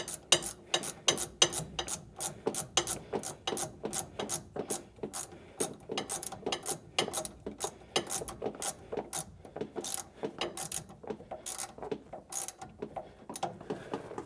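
A hand ratchet clicks in rapid, steady bursts while tightening QA1 sway bar bolts on a car, dense metallic ratcheting strokes repeating close up for about fourteen seconds with no talk.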